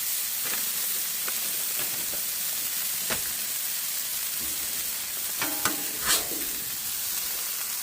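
Cheese frying on a hot griddle for a Smashburger Crunchwrap, a steady close sizzle and hiss throughout with a few scraping spatula strokes and pops toward the end.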